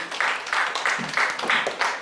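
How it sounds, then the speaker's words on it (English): An audience applauds the speakers at a business growth seminar, with loud, steady clapping that swells in a repeated pulsing pattern and runs the full length without a pause. "give a round of applause for them"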